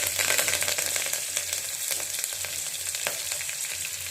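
Curry leaves frying in hot oil for an avarekalu saaru, giving a loud, continuous close-up sizzle with scattered sharp crackles and light stirring.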